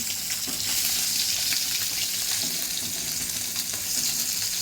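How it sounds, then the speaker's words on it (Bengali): Bhola fish sizzling in a pan, set to cook with mustard, gives a steady close crackle with faint stirring scrapes from a spatula, no voices. "এদিকে মাছ ভাজা বসিয়েছি"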